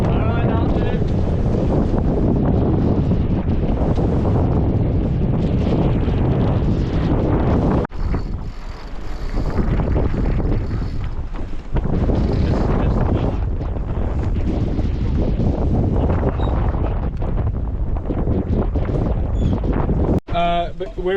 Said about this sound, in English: we're just doing 6 knots because it's just nice and windy and we're going downwind